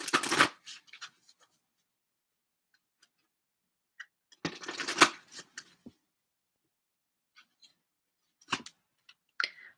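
Tarot cards are shuffled in a quiet room before a chakra card is drawn: two brief flurries of riffling and sliding, separated by near silence and scattered soft card taps.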